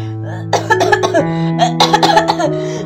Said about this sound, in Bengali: আমার না খুব ঠান্ডা লেগেছে আর খুব কাশি হচ্ছে